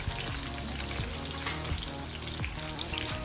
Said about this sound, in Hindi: एक पैन में मैंने ऑयल डाला है। ऑयल डालने के बाद अब मैं इसमें प्याज शामिल कर दूँगी